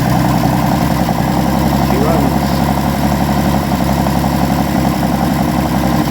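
A 1960s Ford Bronco engine runs steadily at a rough idle, loud and close, with the carburetor recently worked on; the engine drones alone with no voices over it.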